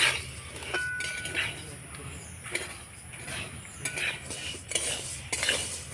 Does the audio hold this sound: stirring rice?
yes